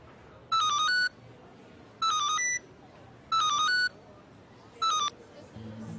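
Telephone dialing tones: four short bursts of electronic beeping at regular intervals, clear and fairly near, over faint background hum, with low background sound rising at the end.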